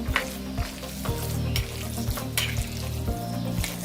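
Shrimp mixture being stirred in a pan for a mustard-greens-wrapped shrimp dish, a steady sizzle broken by regular scraping strokes of the spoon roughly every half second, close and fairly loud, with no talking.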